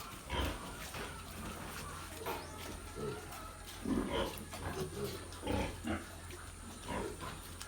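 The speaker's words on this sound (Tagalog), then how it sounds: "Mga bagong walay na biik, ayan sila" Newly weaned piglets on a farm grunting and squealing in short, repeated bursts, fairly close, over a steady background hum, with no talk.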